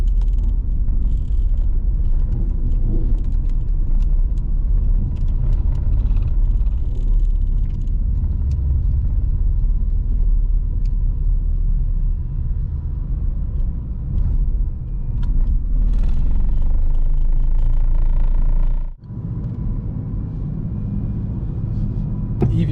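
Nissan Leaf 30kWh electric car driving up a ferry ramp: a steady low rumble of tyres and motion fills the whole stretch, with a sharp dip near the end as the car crests onto the deck.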